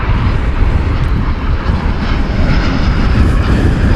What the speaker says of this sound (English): There is that United plane.